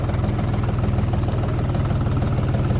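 A Lovol 244 tractor's diesel engine runs steadily nearby, a loud, even, throbbing rumble with no speech.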